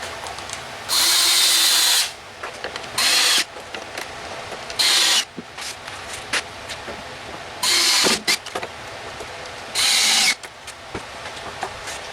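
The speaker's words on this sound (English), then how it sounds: "It's always good to put your screws in and give them a push." A power drill drives screws into pocket holes in wood for a tool cabinet build, with five separate loud bursts of whirring and short quiet gaps of handling noise in between.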